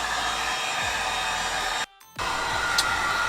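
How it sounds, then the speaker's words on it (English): A heat gun blows a steady, loud, hair-dryer-like whoosh while softening the sealant on a 2015+ Subaru WRX or STI headlight, cutting out briefly for a moment before resuming. "keep your heat gun moving."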